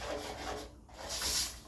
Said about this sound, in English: Make sure you scrape up all those brown bits at the bottom.